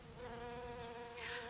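Steady, continuous buzzing of flies, like a single droning hum, faint and unbroken, with soft voices or ambient sound underneath and no talking.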